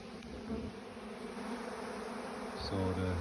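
Honey bees buzz around managed hives, a dense, steady drone of many insects close by, with individual wingbeats swelling louder near the end.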